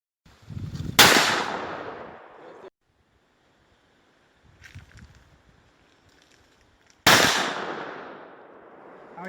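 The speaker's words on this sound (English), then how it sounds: "I was shooting at that plate." Two loud gunshots fired at a steel plate target in an open field, each a sharp crack with a long trailing rumble, spaced several seconds apart, with faint rustling in between.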